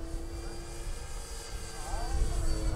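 A 1/7-scale Sopwith Camel RC model biplane flies overhead, its engine holding a steady droning whine that swells louder toward the end as the throttle opens, with wind noise underneath.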